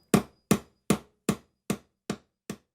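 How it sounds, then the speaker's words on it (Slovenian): A hammer strikes seven times at an even, steady pace, each blow a close, sharp, dull knock that dies away quickly into silence, heard alone. "udarec s kladivom, vse to so poki."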